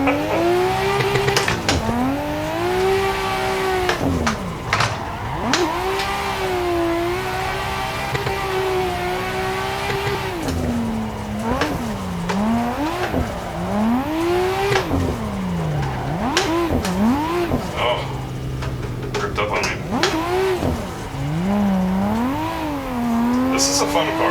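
A Nissan R32 Skyline drifts in the Assetto Corsa racing game, its engine revving continuously and rising and falling through gear changes, with tire squeal mixed in throughout; loud and close with no talk over it.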